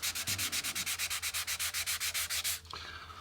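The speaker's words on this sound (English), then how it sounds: "I'm going also to sand back the sanding sealer" Sandpaper worked back and forth over sanding sealer on a guitar body, a steady run of about twenty even rasping strokes, close and clear, ending with a soft scuff and lighter rubbing.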